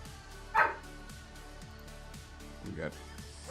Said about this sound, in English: We got some fat, angry dogs over there.